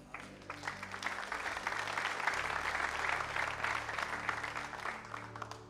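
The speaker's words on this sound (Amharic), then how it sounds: "ክርስቶስ ይጠቅመኛል ካላችሁ አጨብጭቡልኝ" A church congregation breaks into sustained applause, a dense even wash of clapping that swells slightly in the middle and holds for several seconds, heard from a moderate distance.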